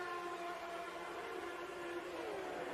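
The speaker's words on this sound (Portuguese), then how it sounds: "E olha o barulho do motor. Nitidamente com um cilindro a menos." Rough, uneven whine of a 1994 Formula 1 car engine running on one cylinder short during the German Grand Prix, a steady sustained drone with shifting pitch heard from a distance over crowd ambience.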